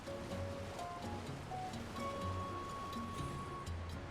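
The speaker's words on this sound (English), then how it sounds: "Oh, I fell down the actual waterfall." Waterfall in the video game Elden Ring, a steady wash of rushing water heard fairly quietly with faint in-game tones layered over it.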